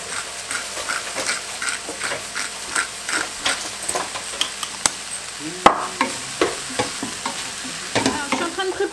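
Food cooks with a lid on in a sauté pan, giving a steady soft sizzle and bubbling with irregular light clicks and taps throughout, fairly close and alone with no talking.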